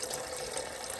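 Coolant drains from a 2013 Honda CR-V into a tall bucket, making a steady close splashing and hissing liquid stream with no break.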